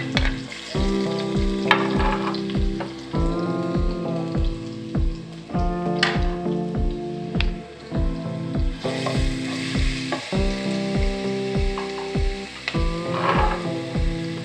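Garlic sizzles and crackles steadily in hot coconut oil, with a dense, continuous frying hiss and regular popping bursts, heard close up and alone.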